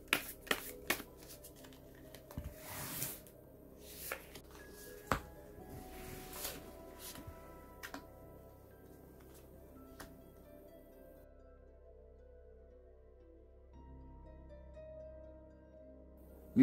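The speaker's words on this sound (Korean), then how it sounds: "그래서 조언 카드를 한번 뽑아보면요" Tarot cards are shuffled and drawn: a series of crisp riffles, snaps and taps close by, busiest early on and thinning to softer handling toward the end, with no talking.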